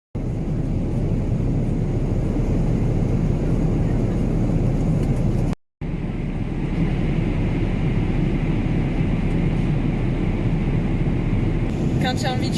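Steady, loud airplane cabin drone during flight, a constant low rumble and hiss that cuts out for a moment near the middle and then resumes, with faint rattles near the end and no speech.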